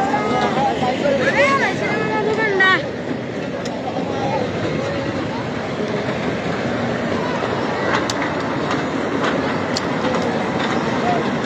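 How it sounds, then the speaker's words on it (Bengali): An amusement ride train at a fair, its steady rumbling and clattering running throughout under constant crowd babble and nearby voices, with a few sharp metallic clicks. "বিনোদন দেওয়ার জন্য ট্রেন।"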